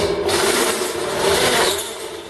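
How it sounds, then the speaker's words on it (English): A nano coated stepped drill bit from Banggood enlarges a hole with a continuous grinding, rasping whir that holds steady for about two seconds, close and fairly loud, with no talking. "We'll go to the second largest one now. Open this hole up a bit and see how she goes."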